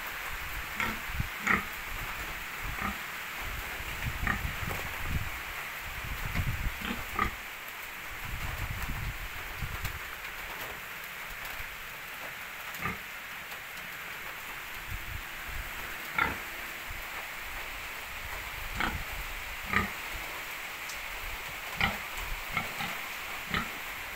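Pigs grunt now and then in a breeder piggery during a heavy typhoon rainstorm, the short low snorts rising from a constant hiss of rain and wind, with no one speaking.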